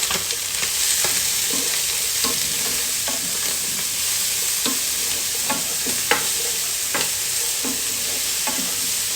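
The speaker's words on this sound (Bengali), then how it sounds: "এগুলো সব একসাথে দিয়ে একটু নেড়ে চেড়ে নিতে হবে।" Green chillies and onions fry in a pan while being stirred, a continuous close sizzle broken by regular scraping strokes of a spatula.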